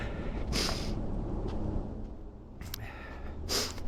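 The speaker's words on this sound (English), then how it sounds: "Excuse the sniffles again." A person outdoors in crisp fall air sniffles several times in short, sharp bursts, close to the mic, with quiet breathing between them and no talking.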